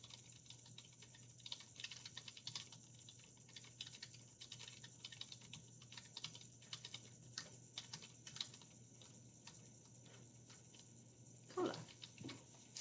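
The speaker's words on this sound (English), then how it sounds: "I just go ahead and type my footnote" Typing on a computer keyboard gives quiet, irregular key clicks in bursts over a steady low background hum, with a brief louder knock near the end.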